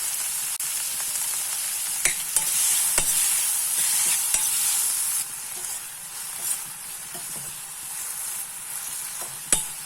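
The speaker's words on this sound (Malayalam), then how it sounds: "ഇനി നമ്മൾ തക്കാളിയും കൂടെ 2 ഉപ്പിടാം, കുറച്ച് മഞ്ഞൾപ്പൊടി, ഒന്ന് വഴലാൻ വേണ്ടി മാത്രം." Tomatoes with salt and turmeric powder sauté in a pan for a restaurant-style idli sambar, giving a steady close sizzle with occasional sharp scrapes and knocks of a stirring utensil.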